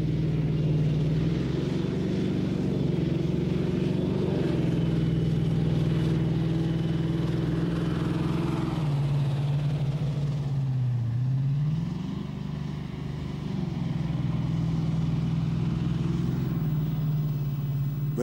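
An AS-90 self-propelled gun drives at full speed, a steady loud engine rumble and track drone held close and continuous, dipping briefly before rising again.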